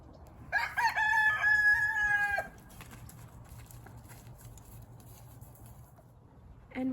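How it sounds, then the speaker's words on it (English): Backyard chickens, with a rooster crowing loudly up close in one long call, followed by quieter scattered hen clucks over a low outdoor background. "Here's some hens."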